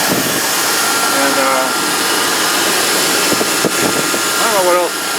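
A 2001 Dodge Dakota with a stock 4.7L engine idles steadily after its idle air control valve was cleaned, a continuous close mechanical hum with someone talking over it.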